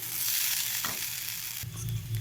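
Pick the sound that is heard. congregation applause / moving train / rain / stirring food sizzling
stirring food sizzling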